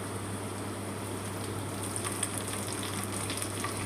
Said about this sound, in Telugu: ఇవి కొంచెం ఫ్రై అవనిద్దాం.